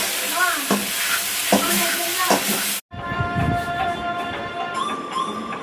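Fried cauliflower for Bangalore-style gobi manchurian is stirred in a pan, with loud close sizzling and scraping strokes, a brief break partway through, then a softer frying hiss with some background sounds.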